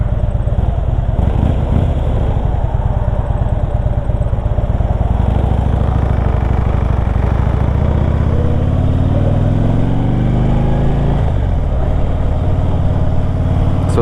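A 2010 Harley-Davidson Electra Glide FLHTP motorcycle rides on the road, its engine a loud close rumble that rises in pitch as it accelerates and shifts, with steady road and wind noise throughout.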